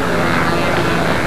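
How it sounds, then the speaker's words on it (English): Propeller aircraft at Salem Airport days airshow, with World War II trainers and biplanes present; a loud, steady engine drone fills the moment continuously, close and unbroken. "We have a number of planes here."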